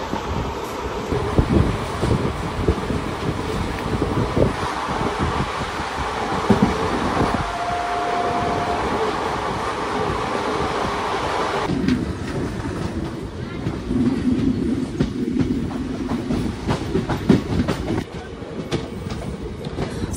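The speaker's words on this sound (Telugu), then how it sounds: "క్రూజింగ్ స్పీడ్ మాత్రం ట్రైన్ 90+ అయితే మెయింటైన్ చేస్తున్నాడు." The Guntur Express runs at a cruising speed of over 90, heard from inside as a loud continuous rumble and rattle of rolling wheels with wind noise and occasional clatter of the carriages.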